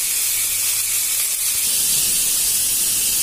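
Pointed gourd and potato peels fry in a little oil in a wok, giving a steady, loud broadband hiss and sizzle with no talk.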